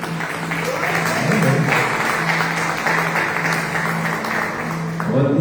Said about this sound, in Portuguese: Vamos aplaudir o Senhor, né?